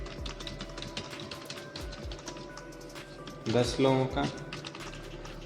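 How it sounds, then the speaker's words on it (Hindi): Rapid clicking keystrokes on a computer keyboard as roll numbers are entered into an Excel sheet, with a denser burst of typing near the end, heard beneath a voice talking. "अब हमें रोल नंबर यहाँ टाइप कर लेते हैं"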